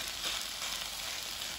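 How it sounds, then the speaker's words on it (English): Steady, loud sizzle of food frying in a hot pan during a Cornish brunch cook, a continuous close hiss with no talking. "So in it goes, nice sizzle here."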